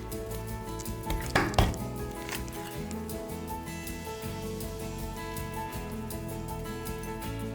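A knife chops a scaled and gutted fish into smaller pieces on a board, with a couple of firm thuds early on and then a steady low kitchen hum.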